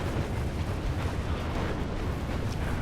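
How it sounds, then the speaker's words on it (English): A tank shell from blue enemy tanks strikes in the Planetary Annihilation strategy game, a dense, sustained low rumbling boom that fills the moment loudly with no clear individual onset. "Oh, the shell from the blue tanks hit us."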